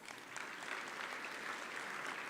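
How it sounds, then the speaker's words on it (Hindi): Audience applause at a Lokrang folk-arts event and auditorium inauguration, a steady dense wash of clapping welcoming an award winner, sustained and even throughout with no pauses. "अरे भाई, अर्जुन जी नहीं है तो अभी ताली बजा के स्वागत करो।"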